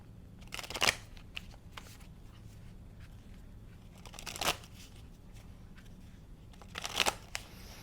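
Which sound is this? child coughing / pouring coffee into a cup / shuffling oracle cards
shuffling oracle cards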